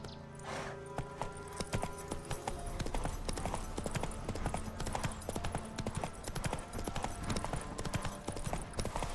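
Horse hooves gallop in a fast, steady clip-clop rhythm throughout The Witcher video game scene, loud and close, with a game music bed underneath.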